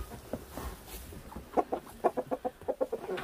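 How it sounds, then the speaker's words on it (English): Chickens clucking nearby, a quiet scattered start building into a quick run of rhythmic clucks toward the end. "Hello, chickens."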